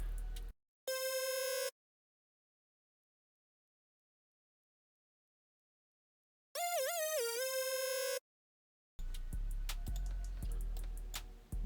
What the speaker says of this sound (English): Next, I had this pretty basic lead.